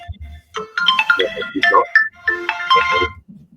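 Mobile phone ringtone playing a bright melodic tune in short repeated phrases, fairly loud and close, alone without talk.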